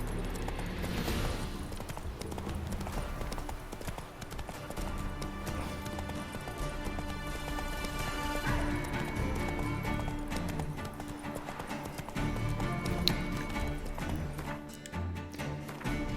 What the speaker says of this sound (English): I love the horse riding in this game.